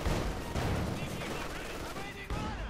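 Dense battlefield gunfire from the World War II strategy game Company of Heroes 2, with sniper rifle shots among continuous loud shooting and explosions, layered and sustained throughout with no pause.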